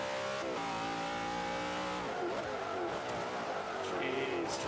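A heavily upgraded 2015 Ford Mustang GT in the racing game Forza 5 roars steadily through a race, its engine note shifting up and down in pitch with continuous loud revving and no voices over it.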